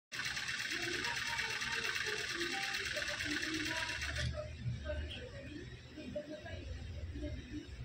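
A home sewing machine stitches a salwar with a steady, rapid mechanical whir for about four seconds and then stops, leaving soft clicks and handling noise. Voices talk underneath.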